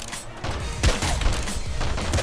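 Rapid bursts of explosions and gunfire from the top-down shooter Nuclear Throne, loud crackling blasts with a heavy boom near the middle, continuous and dense with no talk.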